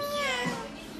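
A woman imitates a kitten with a single drawn-out, close meow, loud and tonal, ending in a short voiced burst.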